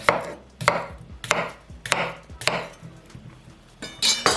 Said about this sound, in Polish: Po prostu pokroję na mniejsze kawałki jednego i drugiego.